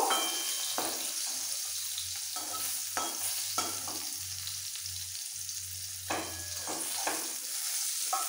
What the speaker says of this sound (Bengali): এবার নাড়াচাড়া দিয়ে বেগুনটাকে একটু ব্রাউন করে ভেজে নেব।